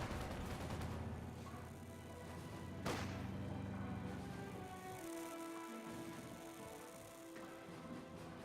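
Battlefield gunfire in the World War II strategy game Company of Heroes 2: scattered shots crackle at a distance, with one sharp, louder report near the three-second mark over a low rumbling backdrop.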